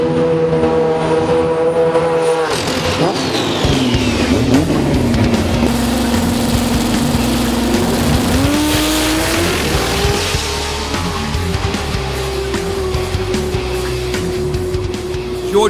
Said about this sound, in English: The finals, Pro Turbo, was a great showdown between Po Tung and Anthony Maatouk, with the Supra coming out on top.